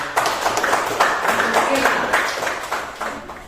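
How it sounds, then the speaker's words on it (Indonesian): A classroom of students applauds after an answer, steady group clapping that holds for a few seconds at moderate loudness, with voices mixed in beneath the claps. "kita berikan aplaus untuk"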